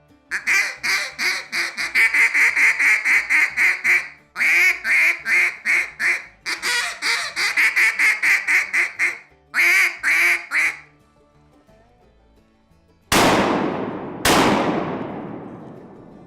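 A duck call is blown through a long run of rapid quacking cadences, loud and close, first with the hand open and then choked down with more back pressure and changed voices, broken by brief pauses. Two sharp bangs follow near the end.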